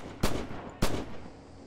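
Two sharp rifle shots ring out about half a second apart in the World War II shooter game Red Orchestra 2, each a loud crack with a short decaying tail and no voices over them.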